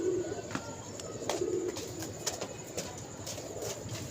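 Pigeons coo at a pigeon club, soft low repeated coos near and far, with occasional sharp clicks and faint wing sounds against a quiet background.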